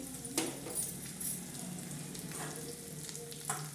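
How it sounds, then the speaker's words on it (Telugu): Something fries in a pan while being stirred, a quiet, low sizzle with a few soft scrapes and taps spread across the moment, fairly close and with no voices. "మంచిగా వేగాలితే ఒక నిమిషం ఇలా కలుపుతూ ఉండాలి"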